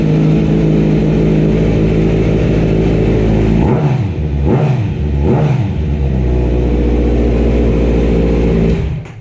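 A 2017 Kawasaki Z900 motorcycle with an aftermarket exhaust idles loudly and low, then blips the throttle three times in quick succession, each rev swelling and falling back, before settling into a throaty idle again.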